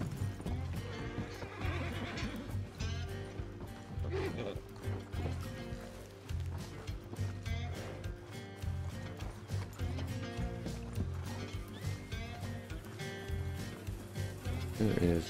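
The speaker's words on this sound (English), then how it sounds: "There is quite a few horses here." Horses whinny and neigh amid clip-clopping hooves over a busy, layered Red Dead Redemption 2 game soundtrack, with a voice talking intermittently throughout.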